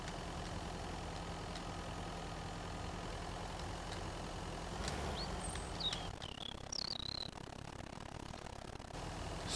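A vehicle engine idles in the survival game Mist Survival, a steady low rumble running through the whole stretch, with a few bird chirps rising over it near the end.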